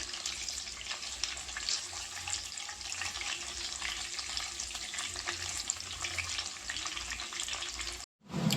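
Pieces of snakehead fish fry in oil over medium heat, giving a steady, close, dense sizzle that runs unbroken and cuts out right at the end.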